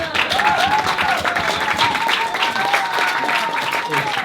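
An audience claps steadily after a reading, a dense wash of applause with a few voices and cheers rising over it.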